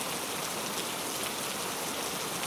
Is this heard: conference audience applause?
no